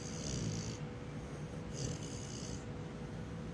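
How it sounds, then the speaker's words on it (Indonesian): A pet snores in rhythmic, raspy breaths, two to three cycles heard close up at low volume over a steady background hiss. "Dia ngorok, bisa denger nggak?"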